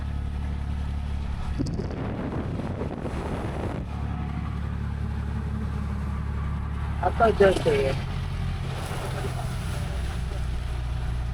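An open-sided auto rickshaw on a Konkan road rumbles along wet tarmac just after rain, a low steady engine drone with tyre hiss and water spray, while someone talks over it.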